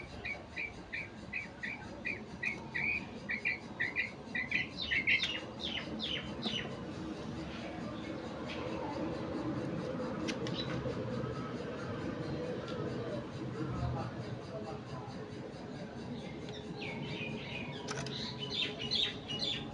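Quail chirp in short rapid bursts, close by, with a steady background hiss and some low voices talking.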